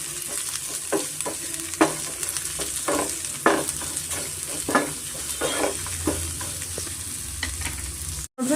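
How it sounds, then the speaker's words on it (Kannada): Onions frying in a little oil over a medium flame, a steady sizzle beneath repeated spoon scrapes and stirs, close and moderately loud, ending in a brief sharp knock. "ಮೀಡಿಯಮ್ ಫ್ಲೇಮಲ್ಲೇ ಸ್ವಲ್ಪ ಎಣ್ಣೆಲೇ ಈರುಳ್ಳಿ ಚೆನ್ನಾಗಿ ಫ್ರೈ ಮಾಡ್ಕೊಳ್ಳೋಣ ನಾವು"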